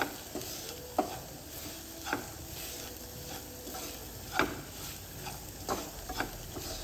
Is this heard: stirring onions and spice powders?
yes